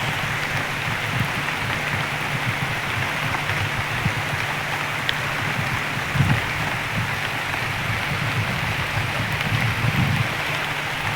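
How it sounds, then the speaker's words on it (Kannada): Heavy outdoor rain pours down in sunshine, a dense continuous hiss of falling drops heard near and steady with no voices. "ಮತ್ತೆ ಮಳೆ ಬಂತು, ಏನು ಮಾಡೋದು"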